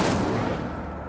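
A fire spell cast in the video game Hogwarts Legacy bursts out as a short, loud whooshing blast with a crackling rumble that fades over about a second, with no voices over it.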